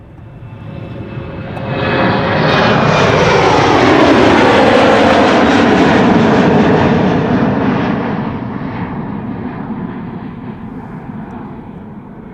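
A German Airways Embraer jet airliner moves at Schiphol Airport, its engine roar swelling loudly to a broad rumble and then slowly fading, with no one speaking.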